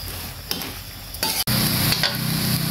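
Shrimp stir-fried with oyster sauce and seasonings in a hot pan, loud continuous sizzling with scraping and tossing of a spatula, one brief pause partway through.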